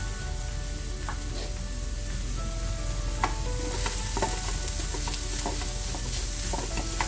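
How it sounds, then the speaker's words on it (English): Onions and mint leaves sauté in heated oil on a stovetop for a minced beef kheema cutlet. A steady, dense sizzle runs throughout, broken by scattered clicks and scrapes of stirring, with no voices. "I'm going to saute till the onions cook down for maybe 2 minutes"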